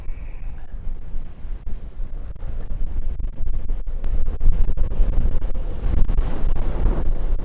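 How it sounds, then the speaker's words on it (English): Strong wind buffets the microphone in continuous roaring gusts, growing louder midway, with no voices. "Woo, it's windy."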